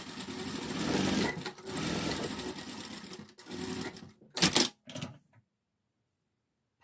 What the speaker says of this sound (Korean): 박음질하고